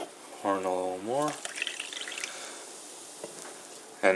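More club soda trickles into a mug with a light splashing pour and fizz, briefly overlapped by a voice at the start.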